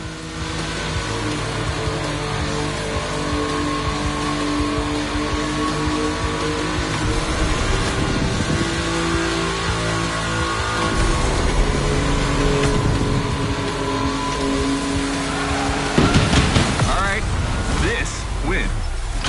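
Porsche 911 in the video game The Crew Motorfest, its engine revving and droning continuously at close range while someone talks over it, with a brief surge of mechanical noise late on.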